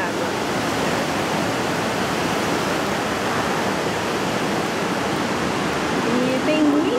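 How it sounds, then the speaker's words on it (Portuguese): Water rushes and streams continuously in the Paris sewer museum, a dense, even wash of flowing water running overhead and along channels, with faint voices surfacing near the end. "E tem muita água escorrendo aqui no teto"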